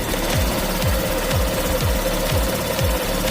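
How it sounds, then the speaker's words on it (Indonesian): A Honda Vario motorcycle engine idles steadily up close, with a fast, even rhythmic putter and no voices, while a fuel pump pressure gauge is connected. "Mesin kita nyalakan."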